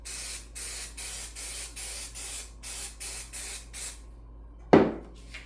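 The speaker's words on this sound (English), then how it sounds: "I'm going to give this just a light spray." Spray adhesive goes onto a pine board for a wooden fall cut-out in a series of about eight short, even hissing bursts. They are close and steady in rhythm, with a louder knock or clatter near the end.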